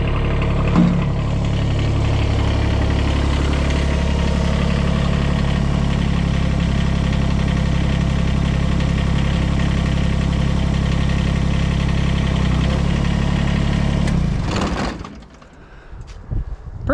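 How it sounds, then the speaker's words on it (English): A Kubota BX compact tractor engine idles steadily and loud in a snowy setting, a continuous close diesel drone holding for about fourteen seconds before cutting off abruptly. "I'll straighten up the tractor just a little bit more because it's down on the one side."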